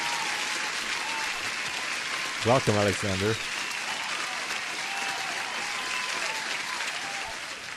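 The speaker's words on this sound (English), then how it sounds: "I'm gonna give you an applause for subscribing to the channel" An applause sound effect plays throughout a live day-trading futures stream: a continuous dense clapping bed under a brief spoken greeting from the host.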